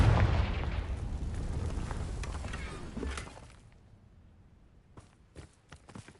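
A Confringo spell blast in Hogwarts Legacy: a heavy booming explosion with a rumbling tail that fades out after about three seconds, followed by a few faint, scattered thuds and clicks.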